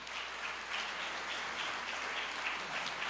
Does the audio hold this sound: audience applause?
yes